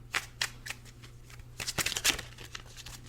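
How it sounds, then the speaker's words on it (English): Tarot cards are shuffled close by in soft, irregular riffling bursts of papery flicks, the last and busiest flurry coming near the end, with no talking. "a couple cards tried to come out when I was shuffling"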